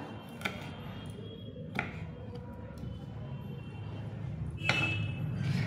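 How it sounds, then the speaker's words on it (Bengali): Knife chopping ginger finely on a board for a sprouted chickpea salad: a few sharp, isolated taps spaced out over a steady hiss of room noise, with no talk. "একদম ছোট ছোট করে কুচি কুচি করে দিলাম"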